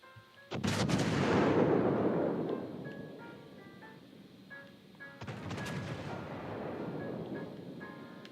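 Turret guns of the Bismarck battleship fire in World of Warships: Legends, two heavy booming salvos several seconds apart, each one rolling off into a long rumbling tail under faint game tones.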